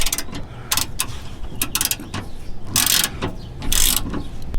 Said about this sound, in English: first thing we're going to do is loosen these bolts and these three, and we're going to take them completely out.